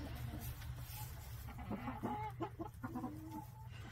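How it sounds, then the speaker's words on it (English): Several hens cluck softly and intermittently, close by, over a low steady background hum, on a snowy winter farm. "They are beautiful chickens."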